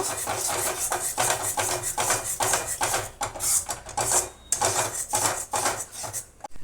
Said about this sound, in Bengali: ভালো করে আমি এটা নেড়ে চেড়ে নেব